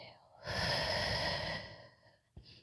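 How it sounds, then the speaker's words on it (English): A yoga instructor's long, audible exhale through the nose and mouth during a class, a soft breathy rush lasting about a second, then fading, followed by a brief snort-like breath. "just completely ignore my breathing"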